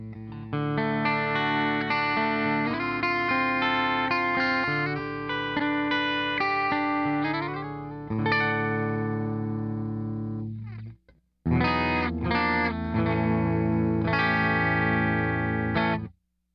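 Aklot Soltone Telecaster-style electric guitar on the bridge pickup, normal then split, in a clean tone with reverb off, chords strummed and left to ring, a short pause, then more chords played. No voices.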